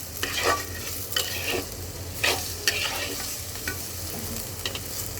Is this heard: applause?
no